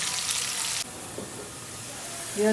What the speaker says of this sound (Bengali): যে আমার পেঁয়াজগুলো ভাজা হয়ে গেছে